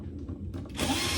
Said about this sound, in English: using a drill